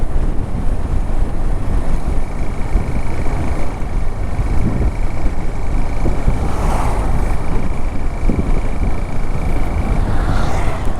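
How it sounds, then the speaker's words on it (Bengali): Heavy traffic on a busy road off the Chittagong highway produces a steady, loud roar of passing vehicles with wind buffeting the microphone, and one vehicle swells past midway. "এই রোডে অনেক গাড়ি।"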